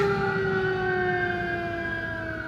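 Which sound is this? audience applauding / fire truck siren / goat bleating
fire truck siren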